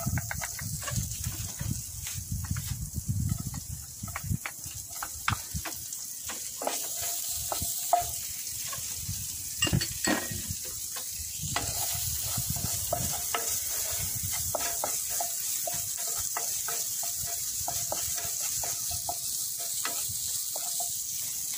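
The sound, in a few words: sautéing ginger in oil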